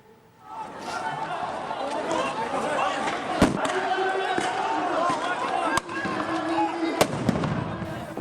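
Israeli police stun grenades go off at Al-Aqsa mosque during tarawih prayers, several sharp loud bangs over a steady roar of crowd shouting and chatter.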